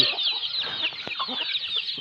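Chickens kept at a rural Thai home cluck repeatedly and close by, with a bright high chirping of birds running steadily through the background.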